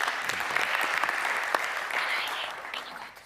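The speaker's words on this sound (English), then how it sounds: "Big hand of applause" Conference audience applause, a sustained crowd of many hands clapping steadily at moderate distance, fading toward the end.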